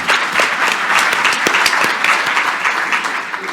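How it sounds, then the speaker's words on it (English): An audience at a tourism summit session breaks into a round of applause, dense, lively clapping that is loud and close and continues throughout. "So everybody can just give her a round of applause."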